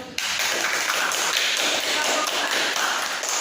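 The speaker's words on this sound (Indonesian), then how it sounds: "Kita beri aplaus dulu." Students in a classroom applaud a group presentation with dense, even clapping that starts abruptly and holds steady, close and fairly loud.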